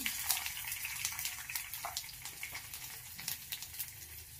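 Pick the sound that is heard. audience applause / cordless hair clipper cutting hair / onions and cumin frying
onions and cumin frying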